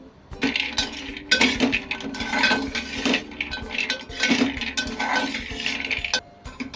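Almonds roasting in a pan over low heat are stirred briskly, producing continuous rattling, clinking and scraping of nuts against metal, fairly loud and close with no talking.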